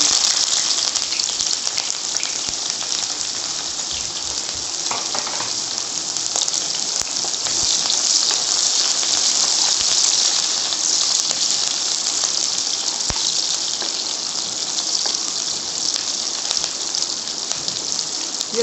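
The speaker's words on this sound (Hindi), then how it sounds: "ये तेल मैंने कढ़ाई में डाल लिया है। ये अब इसमें प्याज डाल दूँगी।" Onions frying in hot oil in a kadai give a continuous, fairly loud hissing sizzle that holds steady throughout, with no talk over it.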